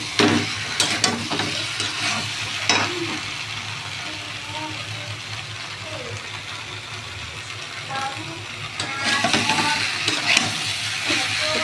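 Potato, pointed gourd and soybean chunks frying together in a curry pan, a steady close sizzle broken by scraping stirs every few seconds, with bursts of louder hissing near the start and end.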